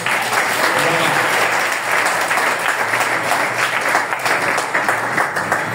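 Sustained audience applause at a DYNACE GLOBAL business gathering, dense and loud with steady clapping for about six seconds and a faint voice under it.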